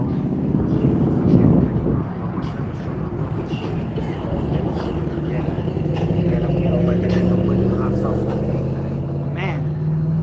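Loud car with heavy engine knock passing close on a street, a deep thumping low rumble that swells and fades over several seconds, with wind buffeting on the microphone.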